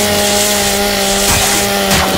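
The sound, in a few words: chainsaw revving in Gears of War 5 video game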